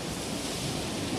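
Strong ocean waves crash onto a rocky shoreline along a fishing trail, a dense, steady wash of surf close to the microphone, with wind noise and no talking.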